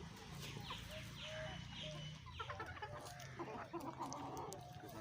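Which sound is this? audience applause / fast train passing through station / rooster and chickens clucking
rooster and chickens clucking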